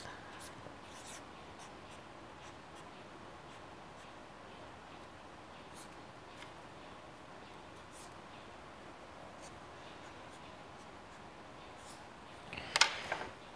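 Pen or pencil scratching steadily on paper while a bucket elevator diagram is sketched, a faint, continuous close scribbling with light strokes and a small clatter near the end.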